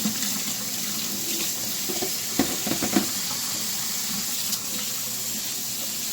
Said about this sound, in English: I'm just giving them like a final rinse.